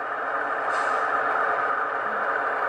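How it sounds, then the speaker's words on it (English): Over a constant diesel engine drone from a Soundtraxx Tsunami 2 sound decoder, a short hiss of air bursts out as the locomotive brakes release, then the engine rumbles on. "when you hit F11 again, it's going to release the brakes"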